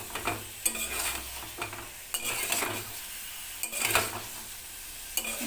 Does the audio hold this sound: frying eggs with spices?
yes